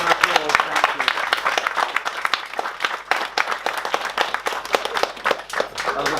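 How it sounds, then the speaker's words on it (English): A small round of applause from wedding guests, clapping near and clear with a distinct, uneven rhythm of individual hands over a few seconds. "Small round of applause."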